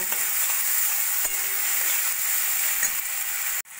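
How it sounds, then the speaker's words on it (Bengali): Peas and onion stalks sauté in a hot pan with a constant sizzle, broken by a few sharp ticks and scrapes of stirring, before cutting off abruptly. "এবার দিয়ে দেবো আগে থেকে ছাড়িয়ে রাখা কিছুটা মটরশুঁটি আর পেঁয়াজ কালি, দিয়েও ভালো করে একটু কষিয়ে নেব"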